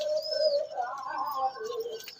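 Pigeons feeding in a dim loft give soft, quiet coos, with a faint higher chirp above the low, wavering calls.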